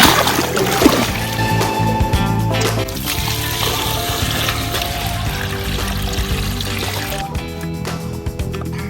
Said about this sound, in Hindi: We're going to get a hose. We're going to fill this up.